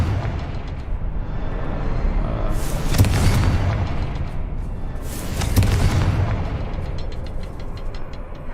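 Two loud, booming blasts from the Confringo fire spell in the video game Hogwarts Legacy, each a broad explosive burst a few seconds apart over steady game ambience.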